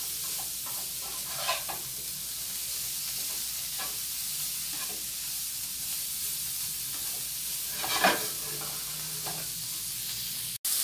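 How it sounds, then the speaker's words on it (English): Cauliflower coated in turmeric and spices frying in a pan, giving a steady soft sizzle throughout with a few louder scrapes and stirs near the start and middle, no voices. "we're going to let it fry for a couple of minutes with all of the spices on here"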